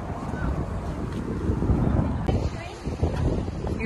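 Strong wind on a farm in East Sussex buffets the microphone in steady low rumbling gusts, with a brief dip partway through and faint voices underneath.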